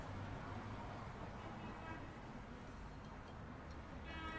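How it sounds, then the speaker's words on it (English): Soft traffic ambience track in the Picross S5 video game: a low, steady wash of passing road noise with faint ticking, quiet and even throughout, no talking. "Relaxing sounds and it has traffic in it."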